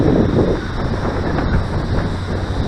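Heavy gusting wind buffets the microphone at an RC flying field, a loud, continuous low rumble with no other clear sounds.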